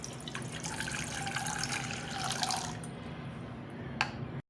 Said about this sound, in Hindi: अब एक पैन में 1 कप पानी है